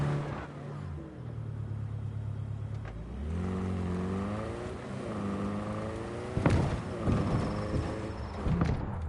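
A car engine in the video game Cyberpunk 2077 hums and shifts pitch as it drives and accelerates, with a few knocks and bumps near the end.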